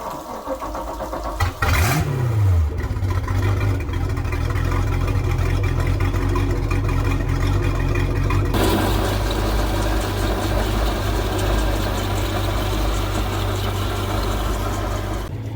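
A small block Chevy V8 engine cranks briefly, fires up with a rising rev, then settles into a loud, steady, rumbling idle close by, with a sharper burst of roughness partway through and no talking.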